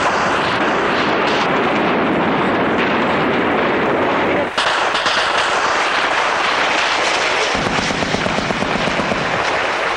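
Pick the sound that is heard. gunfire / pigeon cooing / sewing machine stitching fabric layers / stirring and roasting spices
gunfire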